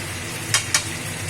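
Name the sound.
stirring Kashmiri chilli powder into frying mutton curry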